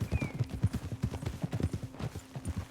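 A horse clip-clops in a video game, a steady rhythmic run of hoof beats at close range with a low hum running underneath.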